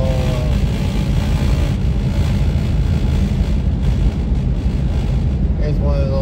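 A 1993 Safari van driving along, a continuous loud engine drone and road rumble from inside the cab, steady throughout with no talking.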